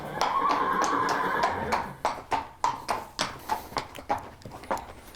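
A freshly shod horse walks on a hard surface after shoeing, hooves clip-clopping in a steady, evenly spaced rhythm of about a dozen crisp, close strikes, the first second or so blurred under a louder background wash.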